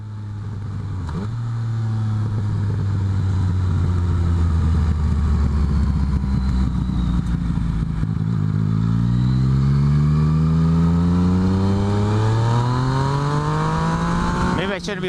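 A motorcycle engine revs loud and close, holding high then dropping and climbing again through the gears in a long continuous run, with the rider talking over it.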